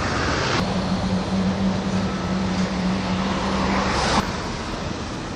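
Trucks rumble into a port on Réunion to collect unloaded vehicles, a steady broad road and engine roar with a low sustained hum through the middle, moderately loud and without speech.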